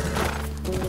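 A horse in the video game The Last of Us, with close, loud clopping hooves and a whinnying neigh over a steady low rumble, within a fraction of a second.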